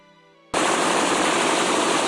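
Sustained automatic gunfire from the visual novel Steins;Gate bursts in abruptly after a quiet, tonal lead-in, a continuous, dense and loud rattle that does not let up.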